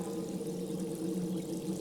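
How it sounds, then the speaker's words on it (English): Running water fills a natural well in the adventure game Willy Morgan and the Curse of Bone Town, a steady, even pouring flow with no break and no voices. "It's a natural well formed by the running water."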